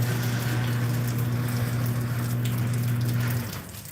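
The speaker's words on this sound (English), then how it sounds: "It's raining in Texas." Steady rain hisses over a low, constant engine-like hum, which cuts out near the end, leaving softer rainfall.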